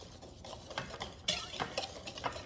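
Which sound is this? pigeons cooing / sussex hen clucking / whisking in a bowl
whisking in a bowl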